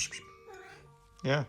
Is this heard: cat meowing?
yes